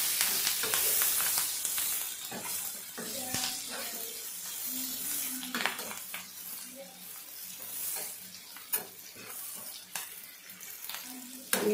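Onions, curry leaves and green chillies fry in hot oil for egg biryani, giving a steady close sizzle and hiss with occasional stirring scrapes, while a voice talks faintly over the cooking.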